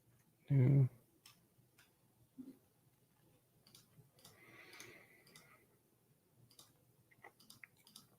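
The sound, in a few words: computer mouse clicking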